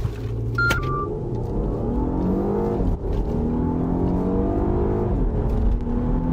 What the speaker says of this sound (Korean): 그냥 엔진과 모터가 모두 이제 힘을 쏟아서 가속을 하게 될 겁니다.